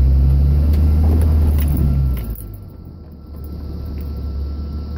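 A third-generation Cummins diesel pickup with a 48RE automatic pulls away in gear, a loud deep engine drone for about two seconds before it drops to a quieter low rumble as the revs fall.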